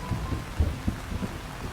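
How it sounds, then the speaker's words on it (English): Wind and rain storm effect in a dubbed game birthday event, a steady hissing downpour with low gusty rumbles and soft thuds, moderately loud with no talking. "The wind and rain are still raging"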